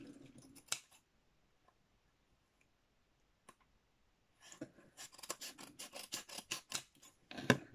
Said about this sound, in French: Allez, on va ouvrir le seau.